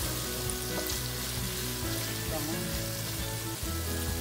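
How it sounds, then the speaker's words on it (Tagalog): Chicken pieces for chow mein frying in a pan, a dense continuous sizzle close by with faint stirring clatter and a low hum underneath. "Babalik na rin natin yung ating chicken. Para maluto siya lahat."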